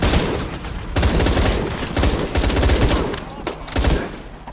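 Heavy gunfire in a Shadow of the Tomb Raider combat scene, a loud, dense fusillade of overlapping shots and bursts close by, with a voice briefly audible beneath.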